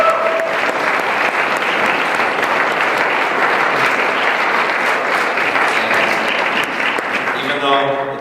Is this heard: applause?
yes